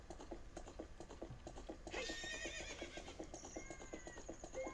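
A horse whinnies in the game Ocarina of Time 3D, a faint high neigh rising over a steady run of soft rhythmic hoofbeats, with other quiet game sounds in the background.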